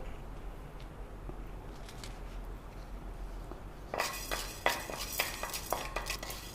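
Urad dal being roasted in a hot pan with a few drops of oil: quiet scraping and light clinks of a spatula against metal, growing louder and busier partway through.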